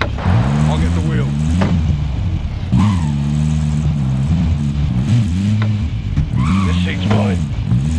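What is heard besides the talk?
car engine driving in video game Call of Duty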